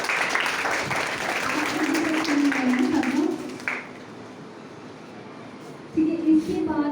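Applause from a group in a school classroom fills the first few seconds, with a voice talking over it, then fades to quieter talk before a voice returns.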